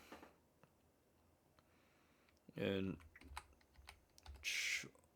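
Fingers tap on a computer keyboard in a quiet room, a few scattered faint keystrokes followed by short, louder bursts of clicking keys, with a voice briefly heard.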